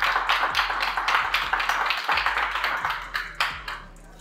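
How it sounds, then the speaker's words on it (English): A small group claps for Marcus at a social media business talk, with distinct individual claps audible in an uneven rhythm that thins out and trails off near the end. "Let's give Marcus a round of applause."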